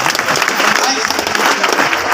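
Seminar audience in Hazaribagh clapping together, a dense, steady wash of hands close and loud, continuing without a break under a voice.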